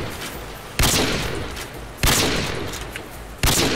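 Gunfire in the video game Call of Duty: three loud, heavy shots at roughly even intervals, each ringing out into a dense sustained rumble, with no talk over it.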